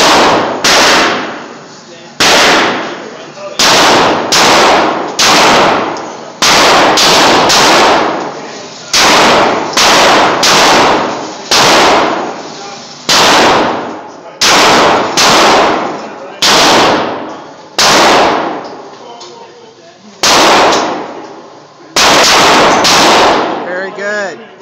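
Rapid series of loud gunshots from a handgun, fired one after another in clusters with brief pauses between volleys, close and sharp, with a voice briefly heard between shots.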